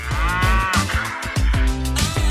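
A cow moos repeatedly in loud, drawn-out calls, several overlapping lowing sounds close by on a farm.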